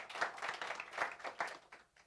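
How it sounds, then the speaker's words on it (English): A brief, faint round of applause at a press conference, a few scattered hand claps rising and fading over about two seconds. "Please, a round of applause."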